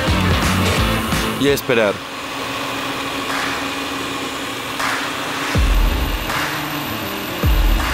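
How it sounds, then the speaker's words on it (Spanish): An electric mixer whirs steadily, beating egg whites for a giant homemade Kinder Pingui, its motor hum running beneath a person talking throughout. "Ya está, empezamos a batir."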